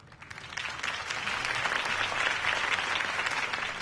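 A crowd applauds after Harvey Dent's campaign speech in a Batman video game, a dense, steady wash of clapping that swells and holds, moderately loud with no talk over it.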